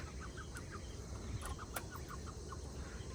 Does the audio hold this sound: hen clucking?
yes